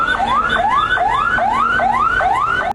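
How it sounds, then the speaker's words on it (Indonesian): Loud, close electronic siren of fire engines arriving at a warehouse fire, wailing in rapid repeating upward sweeps, about five cycles, cutting off abruptly at the end. "mobil pemadam kebakaran terus berdatangan"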